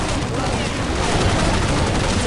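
Tier-1 machine gun firing continuously in Counter-Strike Online, a loud, dense, unbroken stream of rapid shots filling the whole stretch, with game chatter mixed in.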